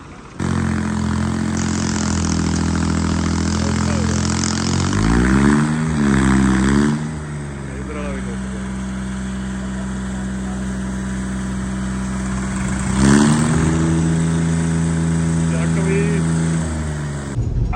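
A tractor engine labouring hard in a Punjab village, its deep humming drone swelling and shifting pitch as it strains, rising sharply twice, with voices talking over it.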